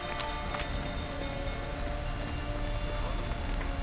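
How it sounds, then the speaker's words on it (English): Steady rain falls in The Witcher 3: Wild Hunt, a continuous wash of drops spread across the scene with faint scattered ticks and patters, and an indistinct voice briefly underneath. "Looks like rain."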